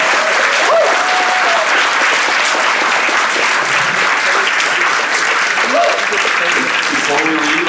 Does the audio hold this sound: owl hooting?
no